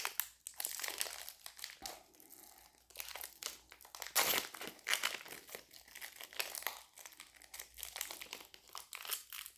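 The plastic wrapper of an Elestrals booster pack being worked open, close and sustained crinkling in irregular bursts with brief pauses, no voices.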